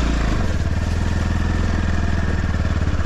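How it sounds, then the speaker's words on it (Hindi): An NS 200 motorcycle ridden on an off-road track gives a loud, close, continuous engine drone with a rapid, even firing pulse and slight clatter, and no one speaks. "यहाँ से करते हैं बाइक को स्टार्ट, और बिल्कुल ऑफ रोड है यहाँ से"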